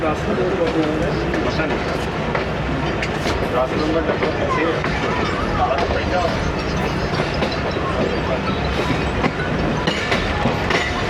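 Awam Express passenger train running in Pakistan, with steady loud rumble and rhythmic clickety-clack of wheels on rail joints throughout, heard from onboard, with a voice talking faintly over the noise.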